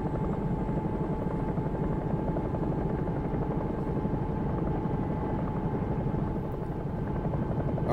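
A Bell 222 helicopter in the X-Plane 11 flight simulator, flying as a London Air Ambulance, gives a loud, steady rotor and turbine drone with a faint constant whine, unbroken for the whole stretch.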